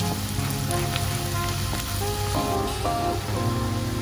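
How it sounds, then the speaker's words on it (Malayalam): Ginger and garlic frying in a pan for a traditional Kerala mango pickle, a steady, even sizzle that continues without a break, with a few faint clinks and no voices. "ഇഞ്ചിയും വെളുത്തുള്ളി ഒരു പകുതി മൂപ്പായിട്ടുണ്ട്"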